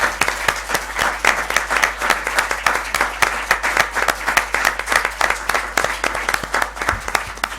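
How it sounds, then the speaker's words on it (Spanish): A room of people claps together in sustained, sharp applause, individual claps distinct and close amid a lively, rhythmic patter. "Yo creo que también don José Manuel se merece un aplauso por este diseño."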